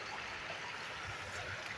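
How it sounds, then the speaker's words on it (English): Steady outdoor stream water flowing as a continuous broadband rush, moderately loud and unbroken, with no voices over it. "I know y'all heard that water in the background"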